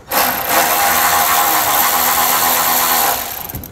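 A power tool spins a 10mm socket to back out a large plastic nut on a 2017 Chevrolet Cruze, a steady close whirring drone holding for about three seconds before cutting off.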